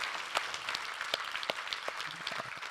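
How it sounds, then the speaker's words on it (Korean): A church congregation claps together during worship, producing brief, steady, moderately loud applause with individual claps audible in the mix. "우리 하나님께 감사와 영광의 박수를 드리겠습니다."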